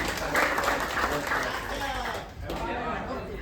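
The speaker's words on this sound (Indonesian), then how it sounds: "Boleh minta tepuk tangannya lagi?" Applause from an audience at a regional port-workers' union branch congress in Tanjung Priok, a steady dense wash of clapping with crowd chatter mixed in, filling the hall at moderate loudness throughout.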